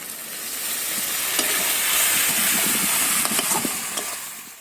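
Water poured into a pan of spice masala frying for a bottle gourd leaf and fish dish sets off a steady, loud sizzle that holds for several seconds with faint stirring scrapes, no voices.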